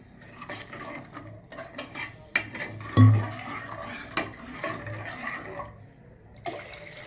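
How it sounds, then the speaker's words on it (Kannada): Water is poured into a pot of tomato saaru, a rushing liquid splash with clattering pot and utensil knocks, loudest around the middle, close and without talk. "ನೀರು ಹಾಕೊತೀನಿ"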